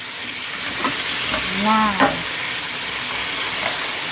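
Pork sizzles steadily in a hot pan with dark sauce, a loud continuous frying hiss with a brief stirring scrape; a voice speaks a single short word.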